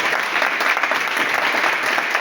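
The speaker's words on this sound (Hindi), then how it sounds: "मैं चाहूंगा एक बार सागर जी के जोरदार तालियां दीजिए।" A seminar audience in Delhi claps loudly and steadily for the whole moment, a thick burst of applause from a close crowd.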